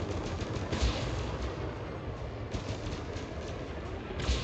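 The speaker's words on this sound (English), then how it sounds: "I don't like how many plasma accelerators are hitting our ship" Rapid, dense bursts of energy-weapon fire from plasma accelerators striking a ship in the Elite Dangerous space game, a continuous loud crackling barrage with sharper impacts near the start and end, no talking.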